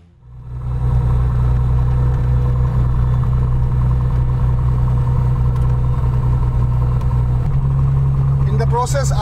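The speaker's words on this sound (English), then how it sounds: "Now I will move the throttle forward. That means I'll generate some more power and we will" A propeller aircraft's engine spools up as the throttle is advanced to begin taxiing, a steady loud droning hum that rises sharply after a quiet start and then holds, with a voice speaking briefly near the end.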